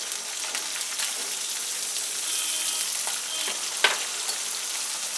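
Onion paste and slit green chillies hit hot oil with a bright, continuous, rain-like sizzle, close and steady, with occasional sharper crackles and a brief scrape near the end.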